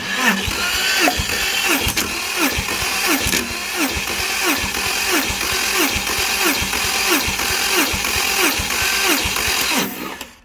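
Porsche 911 engine cranking over on the starter during a compression test, a fast, even chug of compression pulses repeating for about ten seconds, loud and close, then stopping abruptly.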